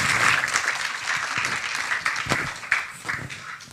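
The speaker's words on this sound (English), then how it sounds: "Please give them a warm little round of applause." Audience applause from a seated crowd at an academic honours symposium, a dense, steady patter of many hands clapping at moderate volume that carries on for several seconds.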